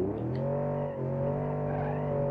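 A car engine in BeamNG.drive revs steadily while the vehicle sits stuck in mud, a loud droning hum that rises slightly and holds, with no voices.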